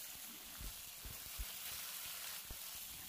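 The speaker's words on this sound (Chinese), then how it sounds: "大火翻炒。" Crayfish stir-fried over high heat in a wok with smoking oil, spices, ginger and garlic: a steady broadband sizzle with scattered low knocks and scrapes from tossing, close and continuous, no voices.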